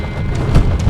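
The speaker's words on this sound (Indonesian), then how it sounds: "Hujan deras." Heavy downpour at Cisanti on the Ciparay–Pangalengan route, a dense, steady broadband roar of rain with no voices.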